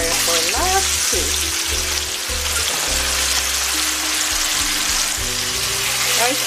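Pork chops fry loudly in a pan over high heat, a dense, steady sizzle with crackling spatter running throughout, no talking.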